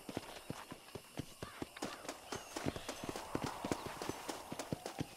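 Rapid, steady hoofbeats of a galloping horse in the video game Red Dead Redemption, close and continuous, over a faint background hiss.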